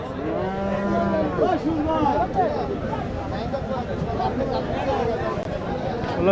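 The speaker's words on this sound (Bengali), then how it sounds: "আজকে প্রচুর মাংসের গরু উঠছে আর অনেক ভিড়" Several cattle moo repeatedly, some close and loud, others farther off, amid a busy crowd murmur at a village livestock market.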